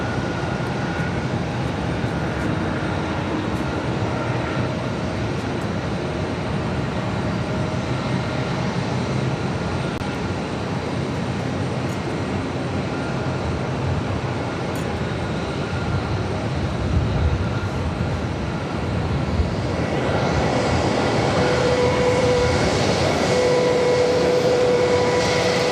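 An airliner bound for Athens, Greece, rolling down the runway for takeoff at Boston Logan, a steady distant engine rumble that swells louder and brighter near the end as the thrust builds.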